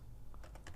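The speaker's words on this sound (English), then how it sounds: "start typing" Quick keystrokes on a computer keyboard, a handful of close, crisp clicks in a short burst over a low steady hum.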